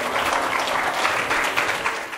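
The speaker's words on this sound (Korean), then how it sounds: "여러분들 큰 박수로 맞이해 주시기 바랍니다" An audience claps loudly and continuously to welcome a student presentation team onto the stage at a presentation competition, a dense, full round of applause that holds steady and fades slightly at the end.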